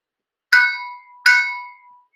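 A small household bell is struck twice with a plastic pencil, each hit giving a bright, sharp, tinny ring that decays over about half a second, close and clear in a quiet room.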